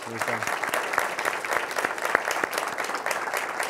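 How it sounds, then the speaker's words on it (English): An audience claps through a short burst of applause at a talk on the legacy of Cesar Chavez, moderately loud and continuous with some individual sharper claps, alongside faint background voices. "So let's give her a big round of applause."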